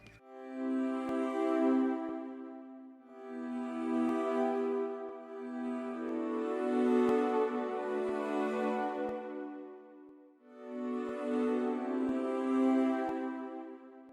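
Soft, sustained synth pad chords, made in FL Studio, swell and fade in long phrases, washed in reverb, with brief quiet gaps between them.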